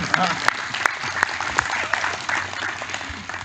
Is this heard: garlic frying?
no